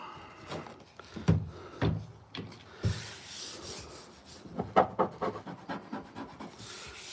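Steady scraping and rubbing as lacquer paint is stripped from a 1984 Cutlass, close by, in irregular strokes with sharper scuffs throughout.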